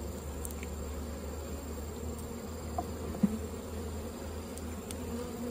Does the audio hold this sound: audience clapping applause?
no